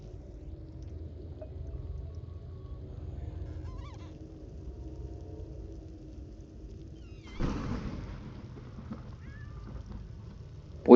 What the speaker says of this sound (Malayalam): ഈ പൂച്ചയാണോ മോർട്ടി?